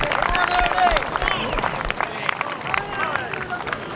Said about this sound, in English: We've even had applause here in the commentary, behind the commentary box for that shot